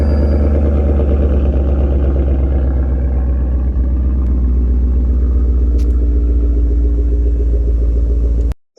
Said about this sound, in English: Now that was a pretty loud car.